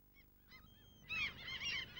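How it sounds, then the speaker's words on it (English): Common gulls, also called mew gulls, give a few short squealing calls, faint at first and then a louder, closer burst of overlapping cries in the second half. "Their squealing calls have caused American birdwatchers to give them the name of mew gull."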